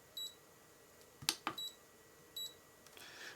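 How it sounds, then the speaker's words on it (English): A Brymen BM235 handheld multimeter gives several short, high electronic beeps as it steps through its ranges, with a couple of button clicks between them in an otherwise quiet room. "Jump through the ranges. Make it beep as it changes."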